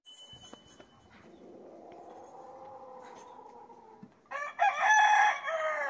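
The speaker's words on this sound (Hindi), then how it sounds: "कुकर बांगा देने पे" A rooster crows at a rural Pakistani home where breakfast is cooked on a clay stove; the loud, harmonic crow bursts in near the end after a quieter stretch of farmyard ambience and softer fowl sounds.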